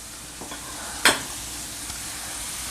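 Pork browns in a frying pan with a steady, moderate sizzle, broken by one sharp metallic clack of a utensil near the middle of the clip and a few faint taps.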